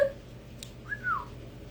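Two short whistles, one brief note at the start and a longer sliding note about a second later, sound close and fairly quiet over a faint background hum, with a small click between them.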